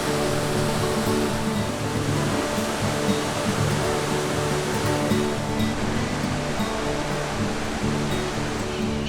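A waterfall at São Thomé das Letras pours steadily into a shallow pool, giving a loud, continuous broadband rush of falling water that stays even throughout, with no voices.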